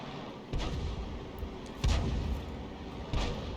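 Tank cannon shots in a tank video game, three heavy booms roughly a second and a half apart, each with a rumbling tail over a steady low engine drone, with no voices.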